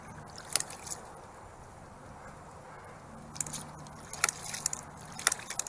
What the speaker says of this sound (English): So I'll go ahead and start the pump up with the delivery valve closed.